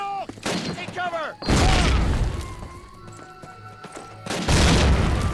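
Grenade explosions in the Call of Duty video game, two heavy booming blasts a few seconds apart, each with a deep rumbling tail, amid battlefield noise and shouting voices.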